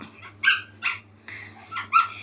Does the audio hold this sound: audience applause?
no